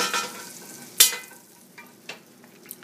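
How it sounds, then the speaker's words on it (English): Butter froths and sizzles in a pan with a soft, crackly hiss, broken by one sharp metallic clank and a few lighter ticks as the sizzle dies down. "Butter frothing nicely in the pan."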